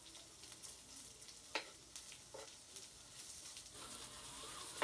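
Onions fry for sisig in a pan, a steady soft sizzle and hiss with occasional scraping stirs and brief louder crackles. The sound stays low and continuous, with no talk.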